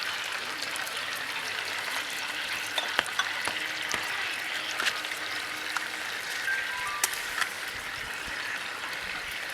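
Chicken frying in a pan for Chicken 65 at home, with a steady soft sizzle and bubbling hiss throughout, broken by a few light clicks and stirring taps.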